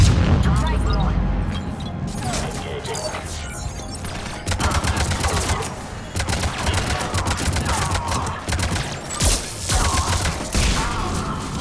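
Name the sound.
cannon fire in a video game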